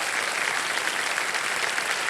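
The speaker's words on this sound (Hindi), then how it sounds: "जोरदार तालियां बज जाए।" Studio audience on the KBC game show applauding a contestant, a dense, continuous wash of clapping from many hands, steady and moderately loud with no talking.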